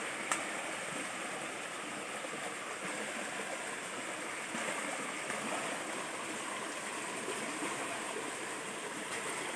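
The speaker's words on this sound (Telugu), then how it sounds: "వాటర్ సౌండ్ భలే కనిపిస్తుంది." A stream rushes steadily at a rocky waterfall trekking spot at Donabanda, giving a continuous, even wash of flowing water with no talk.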